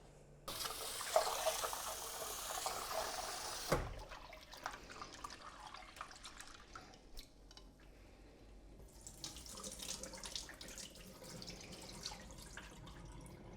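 Lentils for dal are washed under a running kitchen tap. A strong gush of water fills a sink for a few seconds, followed by quieter rinsing, swishing and dripping.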